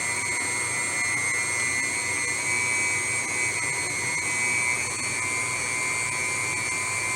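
A KitchenAid stand mixer beats chocolate cupcake batter with a loud, steady motor whine that holds constant throughout, with no voices.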